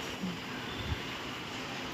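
A goods train rolls past in a steady, dense rumble and roar that fills the whole stretch, with an occasional faint knock. No voices.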